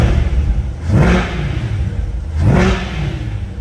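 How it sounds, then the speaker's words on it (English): A 2020 Corvette 3LT Z51 with an automatic gearbox is revved twice, each short exhaust rise swelling and falling, close and loud over a rumbling idle. "Love the sound of the Corvette."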